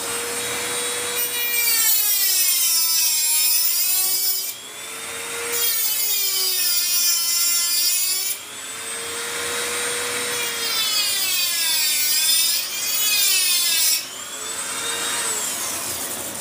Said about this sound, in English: Get rid of any burrs so we don't scratch that pretty turbine up.